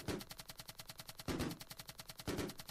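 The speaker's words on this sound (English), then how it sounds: "I do this button to spawn the balloons. This, I shoot them." Rapid gunfire bursts from shooting balloons in the Switch game Balloon Flight, a steady stream of sharp repeated shots with three louder impact bursts spaced through, no talking.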